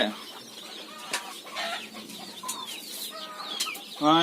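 Chickens on a poultry farm cluck and call in short, scattered bursts at close range, with a louder squawk near the end and a faint voice underneath at times.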